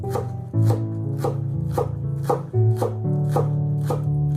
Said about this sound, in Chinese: 剩下来的葱叶我们也把它切成葱花